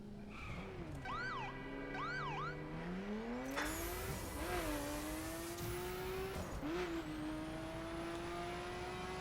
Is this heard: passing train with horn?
no